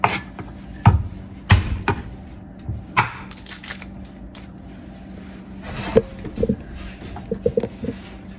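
Garlic being chopped with a knife on a cutting board, a run of sharp, close knocks spaced irregularly, some in quick bursts and others after short pauses, with soft handling noises in between.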